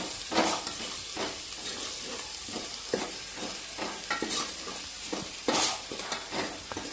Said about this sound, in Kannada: ಇದನ್ನೆಲ್ಲ ಎಣ್ಣೆಯಾಗ ಕರ್ಕೊಂಡ್ಮೇಲೆ ಮಟನ್ ಹಾಕಿ ಒಂದು ಸ್ವಲ್ಪ ಹೊತ್ತು ಬೇಯಕ್ಕೆ ಬಿಡ್ಬೇಕ್ರಿ